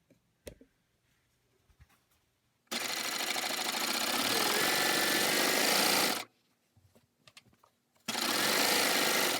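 A serger sewing machine runs in two loud, sustained bursts while stitching a zipper into a pillow cover, with quiet handling clicks before and between the runs.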